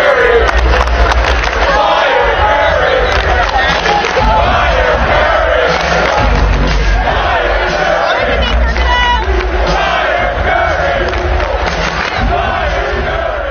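Tennessee basketball fans chanting in an arena, a loud rhythmic crowd chant with rising and falling shouts over a dense, booming hall roar.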